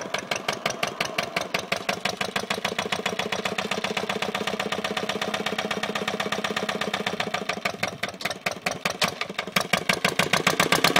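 A 1967 Rough Rider diesel dumper engine running steadily, a close, loud, rhythmic chugging knock with evenly spaced beats that quicken slightly toward the end.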